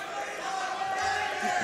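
A speedrun event audience shouts a character's battle-cry impression together, a loud, rough mass of voices that swells toward the end.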